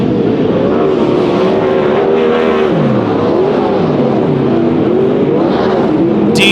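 410 sprint cars roaring around a dirt track at a Mini Gold Cup night at Silver Dollar Speedway, loud sustained engine drone with overlapping pitches rising and falling as the pack passes, continuous and without talk.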